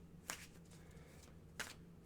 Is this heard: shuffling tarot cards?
yes